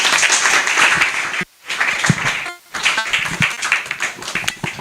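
An audience applauds after a talk at a camp event, dense sustained clapping with one brief break that then resumes, loud and close, with no talk.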